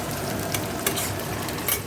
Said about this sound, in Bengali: শুকনো লঙ্কা ফোড়ন দিয়ে পেঁয়াজ ভাজছি।